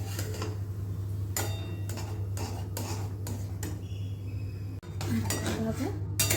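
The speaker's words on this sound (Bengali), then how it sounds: "এইভাবে নেড়ে নেড়ে আমি ঘি বানিয়ে নিই।" Fresh cream being stirred in a wok to make ghee, with repeated scraping and clinking of the spatula against the metal pan over a steady low hum, close by and moderately loud.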